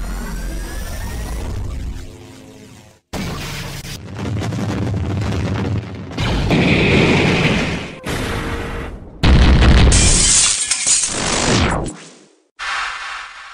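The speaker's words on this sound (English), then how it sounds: "Fire the EMP." EMP blast effect in a Halo Mega Bloks and Lego toy animation: a run of loud, layered booms and crackling bursts, cut into separate hits with brief gaps, ending in a bright hissing surge.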